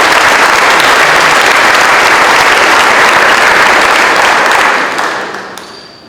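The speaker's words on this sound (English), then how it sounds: "Please give them a round of applause." An audience at a school grand opening claps in loud, dense applause that holds steady for several seconds, then thins and fades near the end.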